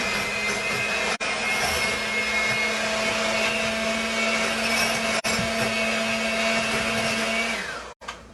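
An electric mixer beating melted ghee butter for a chocolate sauerkraut cake, running as a loud, steady whine close by, with brief dips in pitch and a stop at the end; no talking.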